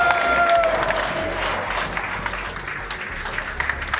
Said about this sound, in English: Round of applause for MOUZ Sports.